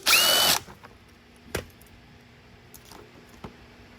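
A power tool drills briefly at a TroyBilt mower's carburetor, one loud close burst of under a second, followed by quiet workshop sounds with a few faint clicks and taps.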